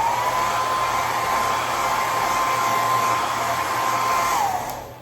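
A hair dryer blows steadily on freshly sprayed hair for a half up half down hairstyle, a loud continuous whooshing whine that holds its pitch, then drops and fades as it switches off near the end.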